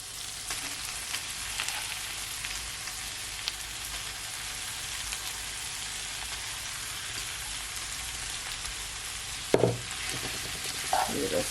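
Spinach being stirred in a frying pan for Tuscan chicken pasta, a steady close sizzle of frying running throughout, with a few brief scraping knocks of the utensil near the end.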